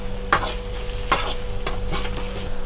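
Mutton fries with ginger garlic paste in a pot for haleem, a loud steady sizzle punctuated by three or four sharp spoon scrapes against the metal, close and without talk.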